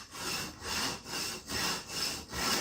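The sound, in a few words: knife run through a sharpening stone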